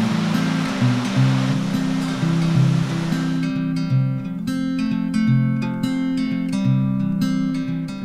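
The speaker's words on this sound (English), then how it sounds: "Last stop of the day in Valdres was the Scutrefoss waterfall." Skutrefoss waterfall in Valdres, Norway, in autumn, a broad rushing roar of falling water that gives way to a quieter ambience with music layered over it.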